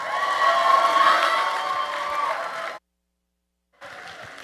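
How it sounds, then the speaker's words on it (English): Live audience at a Diwali stand-up comedy show applauds and cheers loudly for an incoming comedian, steady clapping with whoops for nearly three seconds before a sudden cut, then the crowd noise resumes. "please give him a big round of applause"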